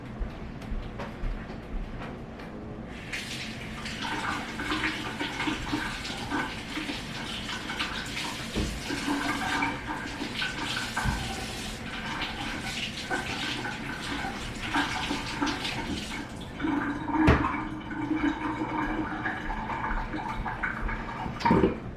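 Eggplants are rinsed under a running kitchen tap, a steady broadband splash of water that continues throughout at close range, with faint clatter and handling noises over it and no talk.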